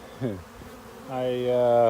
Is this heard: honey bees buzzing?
yes